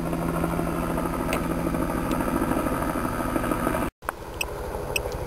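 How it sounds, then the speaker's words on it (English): Helicopter passing overhead at a cemetery, a steady droning rotor hum with a low tone that holds throughout, briefly cut by a short dropout near the end; no speech. "And I'm really sorry about the helicopter."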